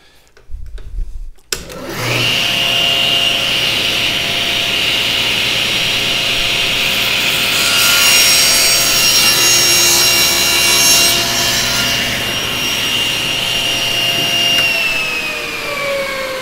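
A power saw cuts a shape out of wood in one long, loud, continuous run after a brief rattle at the start, its steady whine shifting slightly in pitch as the blade works through the board.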